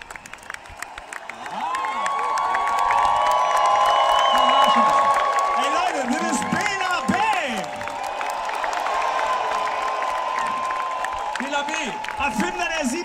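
A rock concert audience at a show in Hamburg applauds and cheers loudly and steadily, a dense wash of clapping with whoops and shouts from a large crowd, the roar swelling and then easing slightly.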